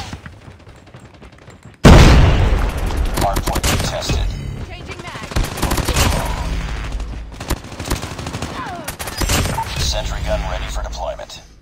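A turret firing on enemies in a Call of Duty Hardpoint match, loud sustained automatic bursts of rapid shots that start abruptly and keep rattling close by, with a voice talking over the gunfire.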